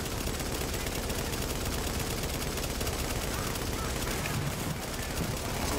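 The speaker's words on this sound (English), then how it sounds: "Machine gun versus machine gun." Sustained machine gun fire in a video game, a dense, loud, continuous rattle of rapid shots with no pauses, overlapping bursts filling the whole stretch.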